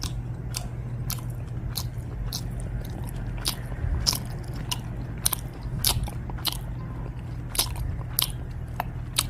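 Close-up chewing of hairtail fish with rice, with soft repeated bites and wet crunches in a steady rhythm over a low background hum.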